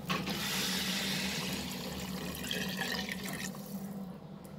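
Lukewarm water pours steadily into a pan of fried rice with a rushing, splashing sound that tapers off near the end, quiet and close, with no voices.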